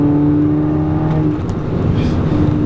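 A tuned Volkswagen GTI engine hums steadily up close, its tone climbing slightly as it pulls away slowly in first gear.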